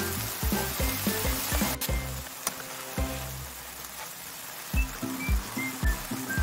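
Bracken fern namul stir-frying in a pan while it reduces until the liquid cooks off, giving a steady soft sizzle and hiss under background music.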